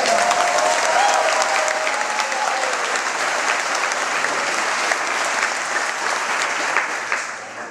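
A crowd at a snowmobile racing awards banquet applauds steadily at close range, the clapping holding strong before tapering off slightly at the end.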